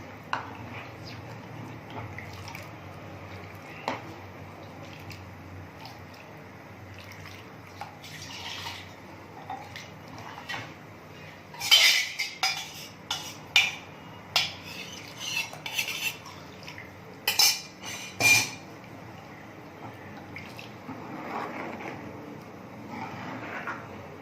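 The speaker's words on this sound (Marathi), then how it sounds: "त्यामुळे आपल्याला हे सतत ढवळत राहायचं आहे" Kulith pithle (horse gram flour porridge) is stirred in a pot with a spoon, faint scraping and soft clinks near the pan, growing into a cluster of sharper metallic taps midway.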